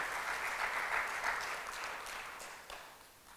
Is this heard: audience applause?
yes